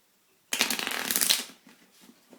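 A deck of playing cards is riffle-shuffled once up close, a dense fluttering burst lasting about a second, followed by faint soft card handling.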